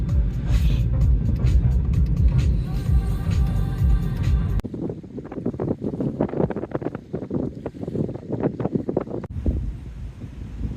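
A car rolls slowly along an empty road: wind buffeting hits the microphone for the first four seconds, then a quieter steady low rumble of the moving car follows.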